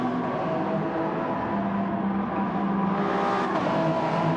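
Race cars lapping Laguna Seca in an endurance racing video game, a continuous loud engine drone that rises in pitch as a car accelerates, with no talking.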